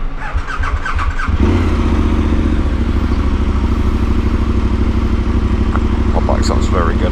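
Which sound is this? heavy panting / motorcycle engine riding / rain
motorcycle engine riding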